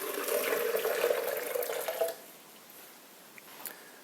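Water pours steadily for about two seconds into a container for homemade rice milk, close and moderately loud, then stops, leaving a few faint drips and small clinks.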